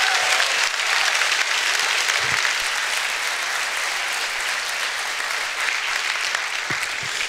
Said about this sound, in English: he does deserve a round of applause for that